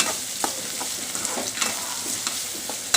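Onions sautéing in a pan for chicken liver gravy, a steady broad sizzle with several sharp stirring scrapes spaced through it, close and fairly loud with no voices.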